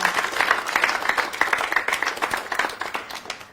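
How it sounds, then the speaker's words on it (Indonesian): Studio audience at a TVRI Bali broadcast clapping for guests from a school theatre group, a lively, close burst of many hands with distinct sharp claps throughout. "Kasih tepuk tangan dong"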